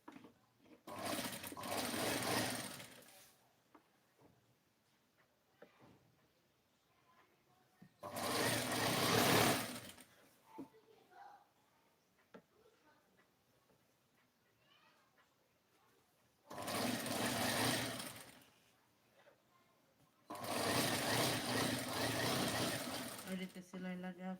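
A sewing machine stitching a princess-cut blouse runs in four separate bursts of a few seconds each, loud and close, with quiet gaps between them where a voice speaks softly.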